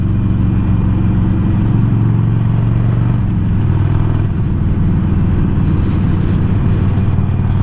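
A Harley-Davidson Iron 1200 motorcycle rumbles through a steady, loud low engine drone while accelerating to overtake during a group ride with friends, the deep exhaust note holding continuously without voices.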